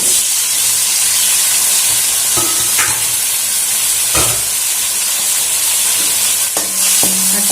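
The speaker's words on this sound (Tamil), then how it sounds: "தக்காளி குழைய நல்லா வதக்கணும்." Tomatoes for crab soup sauté in a pan with a constant loud hiss, broken by occasional spoon scrapes and taps against the pan as they are stirred down until soft.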